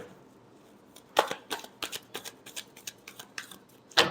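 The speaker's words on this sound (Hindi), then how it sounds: "last shuffle" Tarot cards are shuffled by hand in quick riffling bursts, with a run of crisp flicks and slaps close up and a sharp snap at the end.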